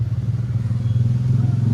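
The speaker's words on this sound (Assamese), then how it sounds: "কি চাউণ্ড মস্ত ডাঙৰ চাইলেঞ্চাৰ লগাইছে" A motorcycle fitted with a loud aftermarket silencer idles and revs nearby on a Guwahati road, giving a steady, throbbing low exhaust burble with a pulsing rhythm throughout.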